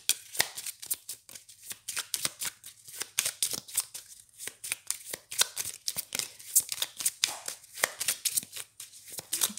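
Petit Lenormand oracle cards being shuffled and drawn, a steady run of close, crisp riffling and flicking card sounds with rapid papery snaps throughout.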